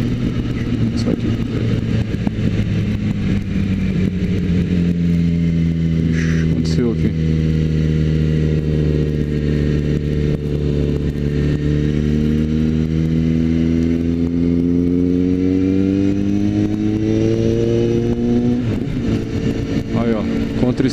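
Suzuki GSX650F motorcycle engine running steadily while riding, a continuous loud mid-pitched drone whose pitch dips and rises gently as speed changes, with wind noise throughout.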